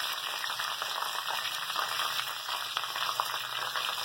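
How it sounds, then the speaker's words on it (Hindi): Curry leaves, cumin, ginger and garlic fry in hot oil for a gobhi aloo dish, giving a steady, bright sizzle and crackle that runs unbroken and fairly quiet, with no voices. "इन तीनों को फ्राई कर लेंगे अच्छे तरीके से"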